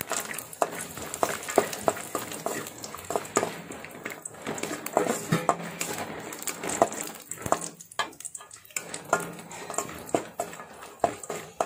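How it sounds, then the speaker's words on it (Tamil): Cashew nuts roasting in melted ghee in a pan, a steady close crackle and sizzle with small irregular pops running throughout. "முந்திரி பருப்பு நல்லா ரோஸ்ட் ஆகும்"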